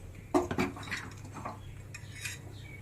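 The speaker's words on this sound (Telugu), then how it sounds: "ఇప్పుడు స్టవ్ వెలిగించుకొని ఈ రసాన్ని స్టవ్ మీద పెట్టేద్దాం" A metal pot of tomato rasam is set down on a stove with a few sharp, close clanks and clinks, followed by quieter scraping, all fairly soft.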